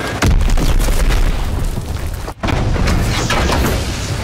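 A video-game enemy bomb blasts in a continuous, loud roar of explosive booms lasting the whole stretch, broken by a brief dropout near the middle before the rumbling detonations resume.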